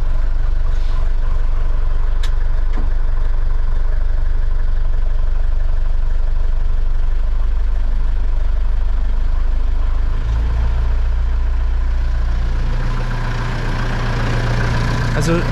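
Mercedes-Benz MB-trac 700 tractor diesel engine idles close by with a steady low rumble, rising a little in the last seconds, while people talk over it.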